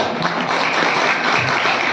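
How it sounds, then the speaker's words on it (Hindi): A crowd at a devotional satsang gathering claps for the dholak player in a continuous, loud wash of applause that stays even throughout. "एक बार हमारे ढोलक वाले के लिए ताली हो जाएगी"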